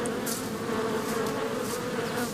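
A swarm of honeybees following their queen near Soyang Lake in Korea, a dense continuous buzzing drone filling the air, steady and fairly loud with no voices.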